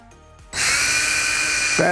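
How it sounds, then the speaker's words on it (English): A cordless drill whirs into a loud, steady high-pitched spin after a brief quiet start, drilling pilot holes and driving screws; a voice briefly speaks at the very end. "drill a couple pilot holes, put some screws in"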